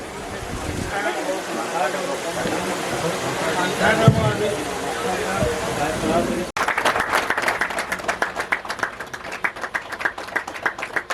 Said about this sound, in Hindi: तालियां नहीं कम होनी चाहिए।